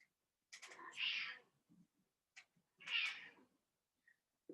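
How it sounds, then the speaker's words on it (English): Two drawn-out cat meows, each about a second long, separated by a short pause, fairly close and clear, with faint soft noises around them. "You hear a noise in the background, that's my cat."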